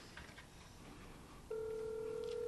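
Telephone ringing in a room during a graduation ceremony, a steady electronic ring tone starting partway through after quiet room ambience, fairly loud and alone.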